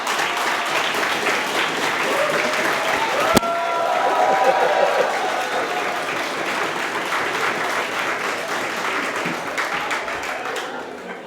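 Steady applause from an audience at a political speech, sustained and dense throughout, with a voice talking over the clapping.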